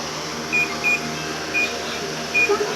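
A room air conditioner gives several short, high electronic beeps at irregular intervals as its temperature setting is changed, each beep clear above the unit's steady low hum.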